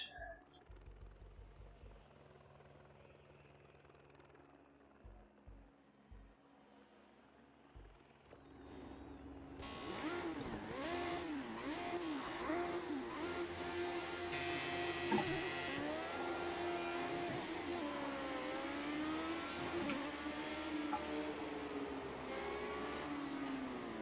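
An old race car's engine in Project Cars 2 starts quiet and sparse, then swells into a loud, sustained revving drone with rising and falling pitch sweeps as it accelerates and shifts.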